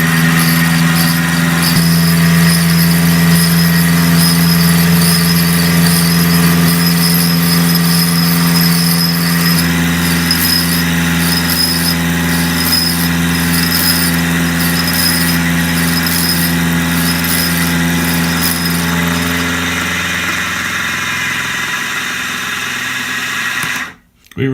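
A Model 6450 mini mill runs at about 1200 RPM, giving a loud, steady mechanical drone with a whining hum that holds for over twenty seconds before cutting off abruptly at the end.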